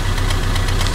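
A Renault Twingo 1 engine runs loud and close with a rough, pulsing idle, throbbing with quick irregular pops from a misfire.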